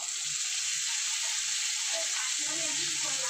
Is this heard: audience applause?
no